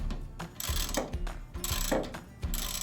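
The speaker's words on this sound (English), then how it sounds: "take your socket set and then retighten" A socket wrench ratchets while a reel mower's cutting bar is retightened, giving close, loud bursts of rapid clicking in repeated back-and-forth strokes.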